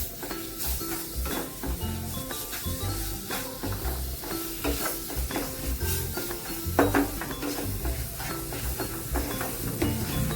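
Spoon stirring banana into sheera in a pan, soft sizzling beneath repeated scraping and clinking against the pan, close and steady with irregular stirring strokes.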